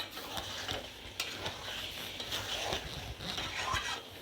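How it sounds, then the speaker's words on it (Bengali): Fried potatoes stirred into chicken curry in a pan, with a steady soft scraping and stirring over a low sizzle and scattered ticking knocks of the spoon. "দিয়ে এবার আলুর সাথে মাংসটা ভালো করে কষিয়ে নেব"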